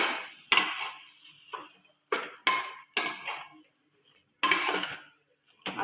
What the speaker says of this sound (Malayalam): നല്ലവണ്ണം ഇളക്കി മസാലയെല്ലാം ഇതിലൊന്ന് പിടിക്കണം.